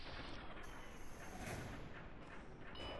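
A sharp 9mm gunshot crack in modded Fallout: New Vegas punctuates a dense, continuous roar of game background noise, with a second faint report near the end.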